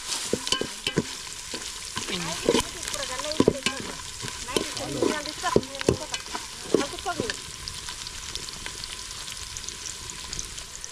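Onions fry in a pan for a military-hotel style mutton head curry, a soft sizzle broken by repeated spatula scrapes and stirring knocks at an uneven pace; no talking.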